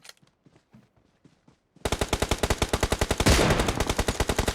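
Rapid automatic gunfire in the PUBG Mobile battle game: after faint scattered sounds, a long burst of evenly spaced shots erupts, loud and close, continuing steadily to the end with a heavier blast partway through.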